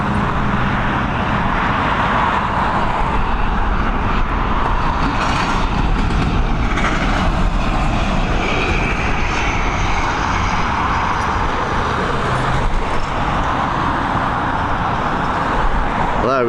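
An airliner in old livery landing at Dublin Airport, a loud, steady broadband jet roar that holds close and strong for the whole stretch, with no talk over it.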